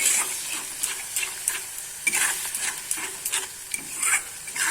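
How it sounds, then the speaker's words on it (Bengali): Spices with half a teaspoon of turmeric being stirred in a pan for a fish-roe dish: soft repeated scraping strokes over a light sizzle, fairly close, no talking. "এবার এগুলি খুব ভালো করে মিশিয়ে নেব"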